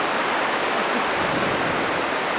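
A river in the town of Merano, Italy rushes steadily with a dense, continuous roar of flowing water, loud and close with no pauses.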